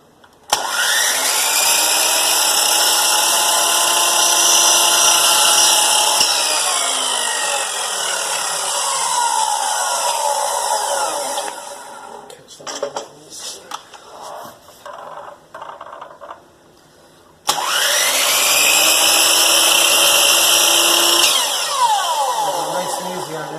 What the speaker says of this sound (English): Now we'll go ahead and trim these ends off on the miter saw.